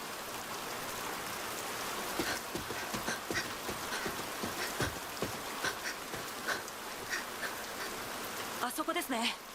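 Steady rain falls in an anime scene, a dense hiss of drops with scattered sharper patters and splashes, loud and continuous, with faint other sounds mixed in near the end.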